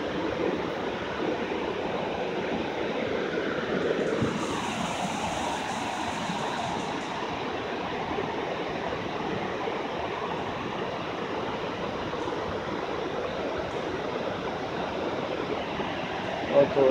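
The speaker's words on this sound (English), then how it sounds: "This is the very top of the waterfall where it drops off at." Bald River Falls waterfall roars steadily from its very top where the water drops off, a loud, broad, continuous rush with no breaks.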